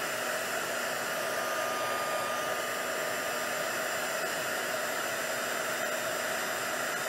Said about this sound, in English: me get my heat tool. So I'm going to be noisy just for a little bit.